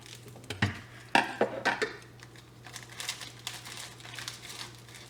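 Frozen paratha packaging crinkles and crumples up close in a few sharp bursts early on, then settles into softer rustling over a steady low hum, with no talking.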